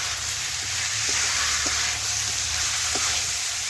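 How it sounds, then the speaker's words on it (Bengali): Boiled young jackfruit stir-fried with spices, a steady rain-like hiss of frying with faint, sparse stirring taps near the pan; nobody talks. "এখন নাড়াচাড়া করে মশলার সাথে আবারও একটু রান্না করে নিচ্ছি"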